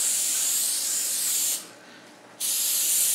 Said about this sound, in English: now we're going to go over here and spray this with olive oil